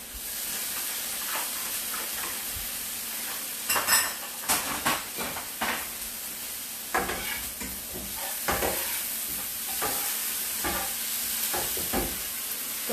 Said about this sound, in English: So I'm stirring it